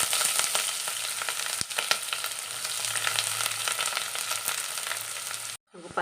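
Sliced onion frying in hot coconut oil with ginger and curry leaves for a sardine curry, a dense close crackling sizzle with a few stirring knocks, stopping abruptly near the end.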